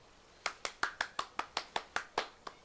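Eleven crisp hand claps in a slightly uneven rhythm, roughly five per second, each sharp and fairly close, inside the Umamusume video game, with no speech over them.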